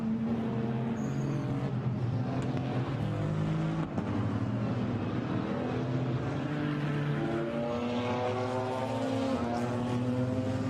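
GT4 race cars roll round Paul Ricard on a formation lap, a dense, continuous engine drone from several cars with rising and falling tones as they pass, loud and unbroken throughout.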